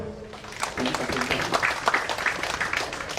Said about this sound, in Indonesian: Kita tepuk tangan dulu lah